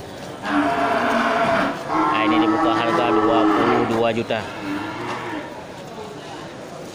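A large beef cow at a livestock market lets out a long, loud, drawn-out moo lasting several seconds, while someone talks nearby.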